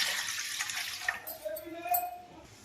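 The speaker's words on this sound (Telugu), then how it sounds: "ఇప్పుడు 2 కప్పులు వాటర్ పోస్తున్నానండి" Two cups of water are poured into a pot for semiya kesari, a splashing, trickling stream that starts strong and thins out into softer sloshing.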